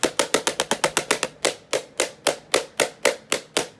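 A clogged Shark robot vacuum filter is beaten out with rapid sharp knocks, about twenty in under four seconds: quick at first, then slower and evenly spaced, close and loud.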